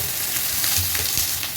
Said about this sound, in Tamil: சுகர் பவுடர் இப்போ நல்லா பாயில் ஆகிட்டுருக்கு.